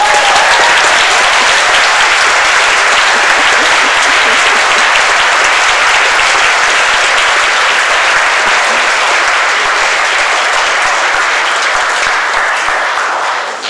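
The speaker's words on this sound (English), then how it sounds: "That's taken 25 seconds out of my time, just the applause for that" A large audience at a Cambridge Union debate applauds in a dense, steady wash of clapping that holds loud and even throughout and only starts to fade at the very end.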